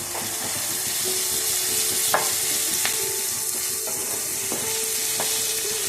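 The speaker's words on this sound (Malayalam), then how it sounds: "ഇതിൻ്റെ കൂടെ നമുക്ക് അല്പം വേപ്പില ചേർത്ത് കൊടുക്കാം കടക്കട്ടെ നല്ലോണം" Curry leaves and red shallots frying and spluttering in hot oil in a pan, a steady loud sizzle with occasional sharp pops and the scrape of stirring, with no talk.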